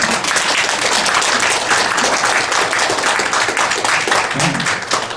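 Vigorous audience clapping at a breakfast lecture of a foreign affairs and security forum, thick and continuous throughout, with a few individual claps standing out near the front.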